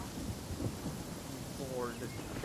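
Steady rain hisses over a low rumble of thunder in Genshin Impact, a continuous wash of storm noise played quietly in the background.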